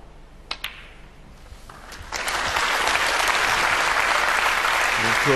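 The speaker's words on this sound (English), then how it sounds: "when he pots one of these reds, that applause is for the century" At a John Higgins snooker match, a couple of sharp ball clicks sound in a quiet arena, then audience applause for a century break swells in and holds steady and full.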